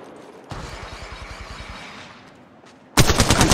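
Automatic weapon fire in Apex Legends Mobile rattles in a steady rapid burst, close and loud, fading into quieter ambience before another sharp, harsh volley erupts at the end.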